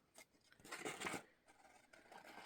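Scissors snip through paper in a journal, giving a few quiet, close crisp cuts with short pauses between them and no talking.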